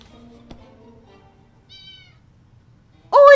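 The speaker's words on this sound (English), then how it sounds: "It's a cat." Cat meowing in the video game 60 Seconds! Reatomized: a short faint mew, then a loud sharp meow bursts in at the end over quiet game ambience.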